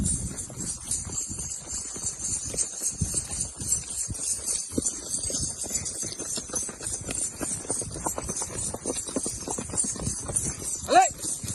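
A horse walking slowly along a village path, hooves clip-clopping in a loose, uneven rhythm, close by, with people talking over it.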